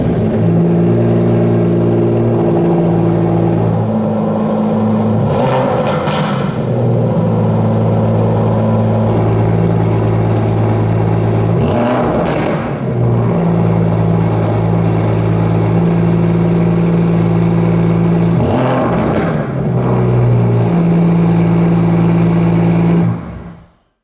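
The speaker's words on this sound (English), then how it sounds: "Let's hear how the dual outlets for the valve-controlled sports exhaust sound, first in GT at idle and then sport." A 2019 Aston Martin DBS Superleggera's valve-controlled dual-outlet sports exhaust burbles at idle with a low, steady rumble, then blips sharply three times, each rev swelling and falling back to idle.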